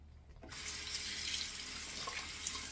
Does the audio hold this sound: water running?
yes